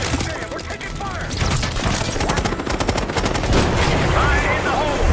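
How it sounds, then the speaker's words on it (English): Dense bursts of automatic gunfire in the Call of Duty: Black Ops 6 campaign, rapid rattling volleys loud and continuous with overlapping shots and explosive cracks, voices talking under the fire. "we're taking fire!"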